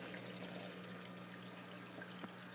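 Water gurgles and pours inside an aquarium U-tube overflow box, a soft, close, continuous trickle with one small splash near the end and no talking.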